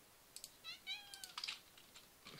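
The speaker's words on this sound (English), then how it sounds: "Stop meowing." A cat meows softly a few times with rising and falling cries, close but quiet, mixed with light clicking like computer keyboard typing.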